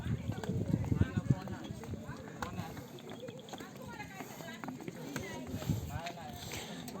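Donkey hooves clop along a fort path at a hill fort, a steady light rhythm of hoofbeats mixed with crowd chatter and voices nearby.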